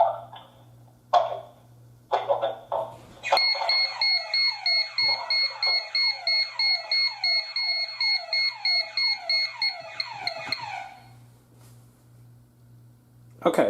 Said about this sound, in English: it should trigger an instant alarm